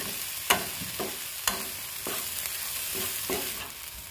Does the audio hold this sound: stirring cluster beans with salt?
yes